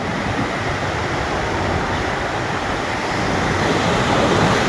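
Sea waves roar in a dense, steady wash of surf along a coast in Vietnam, with wind noise rumbling over the microphone throughout.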